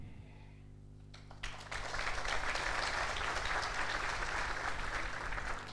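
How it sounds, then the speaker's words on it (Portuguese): Applause breaks out after a short pause and swells into sustained, dense clapping from a large indoor audience at a football club's squad presentation, steady and full to the end. "nós vamos aplaudir"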